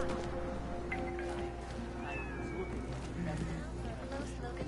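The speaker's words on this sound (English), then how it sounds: "I hear kitty cats." Several cats meowing in the video game Deus Ex: Mankind Divided, scattered mews and wavering cries over a dense low ambient game soundscape.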